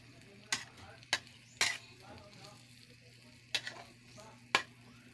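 Bitter gourd (ampalaya) with egg being stir-fried in a pan at home, a soft steady sizzle broken by about five sharp scrapes and clacks of a spatula against the pan, close and fairly quiet.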